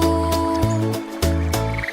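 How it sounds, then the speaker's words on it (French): Cartoon frog croaks in a children's animated song: a quick rhythmic series of loud, close croaks, roughly three per second, riding over sustained musical tones. "Il croassait une chanson que tout le monde pouvait entendre."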